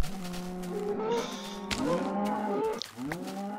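A Minecraft cow lets out a long, drawn-out moo with a wavering pitch, loud and close, with a short break before a second lowing call.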